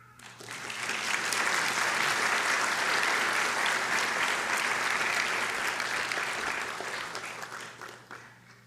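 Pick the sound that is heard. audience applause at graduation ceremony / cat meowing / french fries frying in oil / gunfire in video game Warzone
audience applause at graduation ceremony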